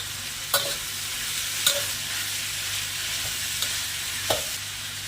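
Drumstick pieces, carrot and curry leaves fry in a pan with a constant soft sizzle, broken by a few sharp taps of a spatula stirring.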